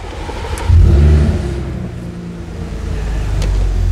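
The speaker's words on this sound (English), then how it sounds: "I'm going to turn the car on" A car engine cranks and catches with a loud low surge, then settles into a steady idle rumble close by.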